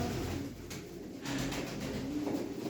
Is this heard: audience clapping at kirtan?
no